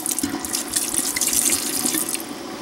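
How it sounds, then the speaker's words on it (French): Red wine poured into a cooking pot for coq au vin, a steady splashing liquid stream that runs continuously for a few seconds with no voices. "Je vais ajouter un peu de vin rouge."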